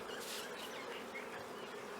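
Dense, steady buzzing of many honey bees swarming close by at an opened hive during honey collection with smoke, a continuous droning hum without pauses.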